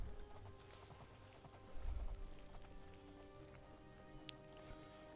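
Horse hooves clip-clop at a steady trot in The Elder Scrolls IV: Oblivion, a moderately close, even rhythm of soft thuds running under faint game ambience.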